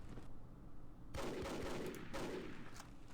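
Machine gun fire in the World War II video game Battle for Iwo Jima, a dense rattling burst of rapid shots that starts after about a second and runs to the end under low ambient rumble.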